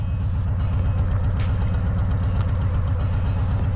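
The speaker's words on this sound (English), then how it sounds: "I guess this is what it sounds like when it needs gas" A 2020 Harley-Davidson Low Rider S engine runs steadily and close by with an uneven, sputtering pulse, starving for fuel and holding a constant loud drone with no voices.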